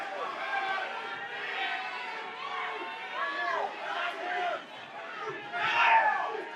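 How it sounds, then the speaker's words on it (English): Fight crowd at a Sparta 91 bout between Emmanuel Waddy and Tygr Cain, with a steady murmur of spectators rising into louder shouts and cheers, swelling near the end. "Crowd getting into it now"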